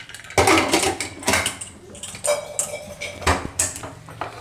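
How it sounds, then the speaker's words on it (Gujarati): Metal pot lid set down over a pot of bottle gourd in water, several close clanks and scrapes of metal on metal in quick succession. "તો આને આપણે હવે ઢાંકણું બંધ કરી દેવું"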